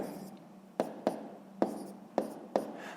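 Pen or pencil strokes write numbers on paper in a quiet room, close and faint, with five crisp tapping marks spaced in an uneven rhythm over a soft scratching bed.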